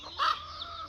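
Chickens at a poultry farm shed give a short, close cluck that rises briefly over a low, steady barnyard background.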